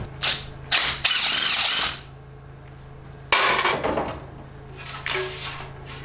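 Metallic ratcheting and clanking bursts from a wrench loosening bolts during a 700R4 transmission teardown, close by, in several separate spells with a steady low hum underneath.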